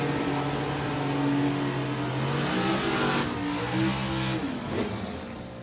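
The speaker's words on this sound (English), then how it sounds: "George, the Mustang, factory GTI, and Nick Morris out of Louisville, Kentucky, factory GTH." A Super Stock drag racing car, a factory Mustang, accelerates down the strip, its engine roaring and climbing in pitch through several gear changes, loud and close with no voices.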